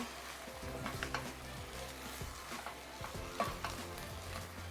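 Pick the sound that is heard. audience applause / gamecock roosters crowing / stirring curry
stirring curry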